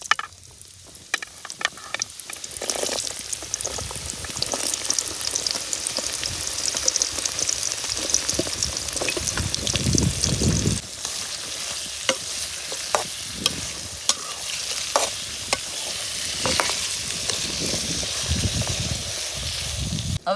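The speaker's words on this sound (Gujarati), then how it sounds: "કેરીને પહેલા તેલમાં તળી નાખી." Kesar mango pieces fry in hot oil with a continuous, fairly loud sizzle, while spatula strokes stir through the pan again and again.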